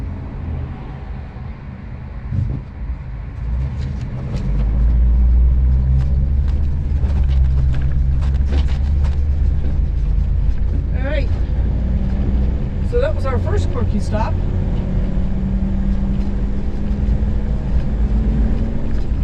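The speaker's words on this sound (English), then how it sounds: "We got a truck coming." A truck passes on Route 66 with a deep rumble that swells after a few seconds and holds steady and loud. Voices talk intermittently over the road noise.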